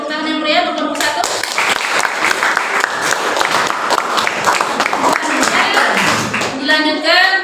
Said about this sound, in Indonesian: Kita beri tepuk tangan yang meriah untuk kelompok 1.